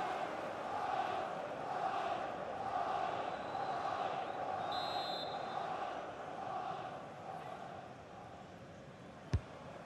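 A football stadium crowd at a Liverpool versus Arsenal match keeps up a steady, distant roar, rising slightly at times, with a brief sharp knock near the end.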